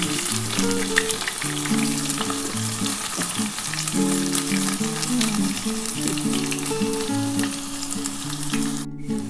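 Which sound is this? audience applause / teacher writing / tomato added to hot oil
tomato added to hot oil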